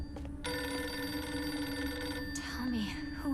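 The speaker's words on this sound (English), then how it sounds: "Phone. Pick up the phone." The video game Silent Hill f plays a ringing telephone, a sustained bright bell tone that continues steadily under dark ambience, with brief bursts of other game sounds near the end.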